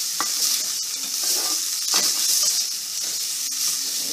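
Garlic and onion fry in olive oil in a saucepan, the same one used for fish fillets: a bright, continuous sizzle with a few sharp utensil clinks and stirring scrapes, close up, no voices.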